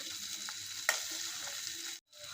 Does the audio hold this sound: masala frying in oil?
yes